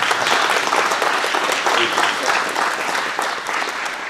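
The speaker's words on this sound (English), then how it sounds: "let's have a warm Warhawk round of applause for Herman" Audience applause at a presentation on growing up in Holland during WWII, a steady dense wash of many hands clapping throughout, fairly loud and continuous.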